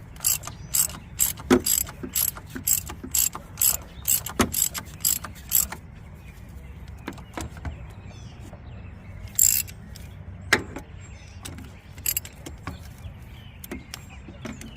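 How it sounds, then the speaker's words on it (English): A hand ratchet tightens a car's filter housing in rapid bursts of sharp, close clicking, pausing briefly between runs of strokes. No voices are heard. "Put your ratchet on it, the drive."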